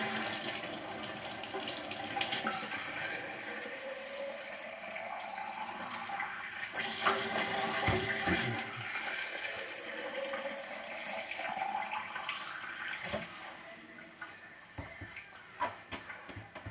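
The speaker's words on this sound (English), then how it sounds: "I'm running hot water into them now." Hot water runs steadily from a tap into drink bottles during a freezing New Year's Eve ElliptiGO century ride, a continuous rushing pour with a rising fill tone, moderately close and alone.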